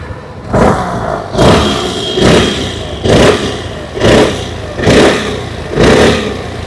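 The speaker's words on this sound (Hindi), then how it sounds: "आइए एक बार सुन लेते हैं इस न्यू मॉडल की एग्जॉस्ट नोट।" A new 2026 Suzuki Burgman 125 scooter engine revs repeatedly, six short throttle blips rising and falling in a steady rhythm over an idle, close and loud with no talking.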